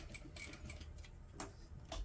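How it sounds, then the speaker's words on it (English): Hand-cranked sewing machine stitching vinyl for a tulip-shaped pouch, giving a quiet, faint series of uneven mechanical ticks and clicks as the needle works slowly around curves. "I'm hand cranking my sewing machine on these parts so I don't go too fast."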